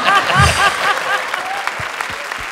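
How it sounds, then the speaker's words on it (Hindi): A studio audience on a televised comedy show claps after a comedy act, with the applause partly under a speaking voice at first and then thinning to sparse, scattered claps. "जोरदार तालियां शानी शकील के लिए"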